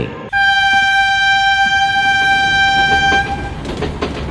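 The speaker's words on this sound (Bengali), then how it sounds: "ট্রেন ছেড়ে দিচ্ছে তো" Passenger express train departing a railway station platform, a loud sustained multi-tone horn sounding for about three seconds over rumbling station noise that continues after it stops.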